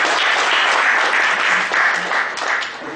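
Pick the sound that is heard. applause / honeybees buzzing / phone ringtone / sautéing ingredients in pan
applause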